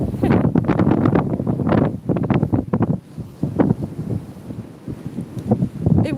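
Strong wind gusting on a seaside promenade as the tide rises, buffeting the microphone in loud continuous rumbling blasts that swell and dip without pause.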